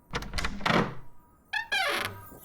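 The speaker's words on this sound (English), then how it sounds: "Silver, open this door at once." A door is opened: a dull thunk and rattle of the latch and handle, then a short squeak and a longer creaking swing, close by and loud, with no talking.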